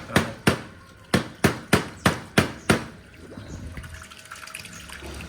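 Water runs through a car radiator as a soft, steady rushing wash, preceded by a quick series of seven sharp metallic knocks on the radiator.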